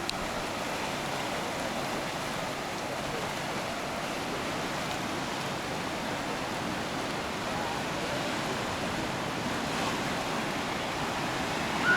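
Steady broadband wash of ocean waves breaking on Shell Beach at Manly in Sydney, a continuous even roar of surf heard from nearby with no distinct individual crashes.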